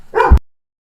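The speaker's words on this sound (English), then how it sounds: "I do have to keep muting momentarily every time he starts barking." One short, sharp dog bark heard close and loud in a home, cut off abruptly into silence.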